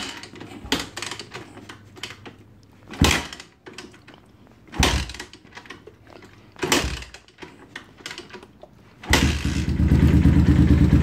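SSR 189 pit bike, semi-warm, kicked over several times with loud separate thumps and brief sputters between quieter pauses, before the engine catches and settles into a steady, close idle.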